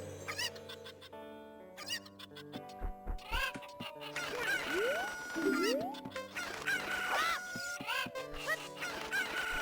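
Cucco chickens from Zelda Ocarina of Time crow and cluck in a lively, overlapping series of rising calls, loud and close, set against game music with a few short sharp effects.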